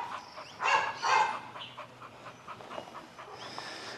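A Chow Chow dog pants in quick, breathy bursts, loudest in the first second and a half, then trails off into softer huffs with no one speaking.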